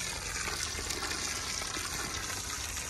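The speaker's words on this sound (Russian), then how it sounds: "Сильно поливаю вокруг." Heavy watering around a newly planted garden plant, a steady gushing pour of water splashing into soil, continuous and close.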